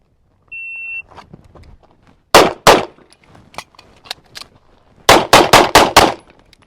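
A Tisas 2011 pistol fires on a shooting range after a shot-timer beep: two sharp, loud cracks, fainter pops between them, then a rapid string of five close shots.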